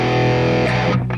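Electric guitar through a signature distortion preset, a thick sustained chord ringing loud and steady before breaking into a shorter choppy strum; no voices.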